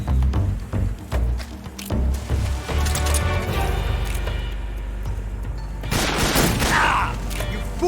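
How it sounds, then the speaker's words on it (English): Rapid gunfire, metallic mechanisms and booms from the video game Metal Gear Solid 3 fill the stretch, loud and dense, with a burst of crashing action near the end and a weapon reload amid the clatter. "This reload time is exhilarating."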